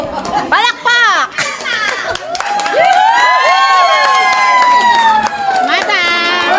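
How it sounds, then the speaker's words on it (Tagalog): Cheering and shouting from a reunion crowd welcoming former high school teachers, excited voices and whoops rising over scattered clapping, loud and close. "Palakpak!"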